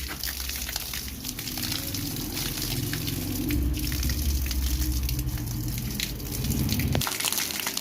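Water runs and splashes steadily while potted plants such as a lemon plant are watered at home, a close continuous gushing spatter that stops abruptly near the end, with no talk.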